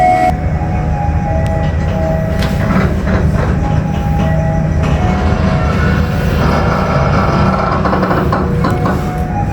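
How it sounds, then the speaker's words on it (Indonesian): Serayu passenger train standing at Leles station at night, a loud continuous rumble of engine and carriages with occasional metallic clanks and a faint tonal whine, no speech. "kereta api Serayu yang saya naiki menuju Ciamis sudah tiba di stasiun Leles"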